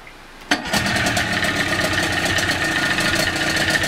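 A 1996 Evinrude 28 Special long-shaft outboard motor cold-starts with a sudden catch after a short quiet moment, then runs at a loud, steady, throbbing idle close by.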